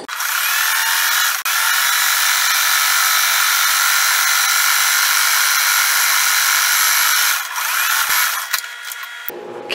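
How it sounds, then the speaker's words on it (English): Sewing machine running steadily while top stitching down the side of a fabric tote bag, a continuous close mechanical whir with brief pauses near the start and a stop at the end. "I'm going to do top stitching all the way down the other side too"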